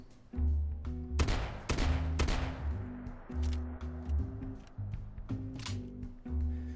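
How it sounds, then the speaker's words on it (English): Triple barrel shotgun blasts in Fallout 4, several sharp booming shots in quick succession over a steady low musical drone, loud and close with decaying tails. "The triple barrel variant one-ups the double barrel by tacking on a third barrel, meaning 3 rapid-fire shots before having to reload the multiple barrels."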